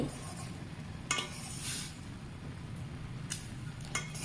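Maggi noodles stirred in a pot make soft scraping and a low bubbling hiss, broken by a few light metallic clinks of the spoon against the pot's rim, close by and with no talking.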